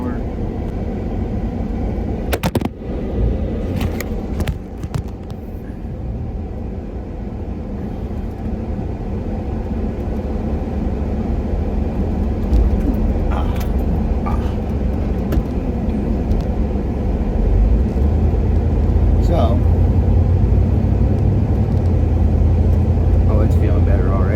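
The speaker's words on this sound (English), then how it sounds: "Driving down the road in this truck at about" Steady low rumble of a 1986 C10 pickup truck cruising at about 65 to 70 mph on the highway, with road and engine drone throughout and occasional clicks and thumps inside the cab.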